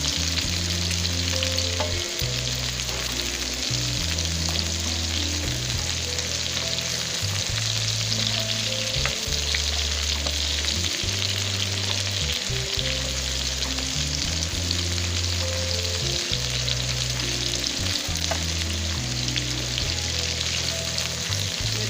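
Okra frying steadily in oil in a pan for bhindi gosht, a continuous dense sizzle at even loudness throughout with faint stirring, no voices.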